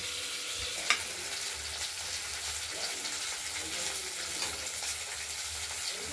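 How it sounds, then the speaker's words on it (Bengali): Pieces of rohu fish fry in oil inside a covered pan, giving a steady, even sizzle that holds for the whole stretch with a single faint clink near the start. "ঢাকা দিয়ে দিলাম, হতে থাকুক মাছটা ভাজা।"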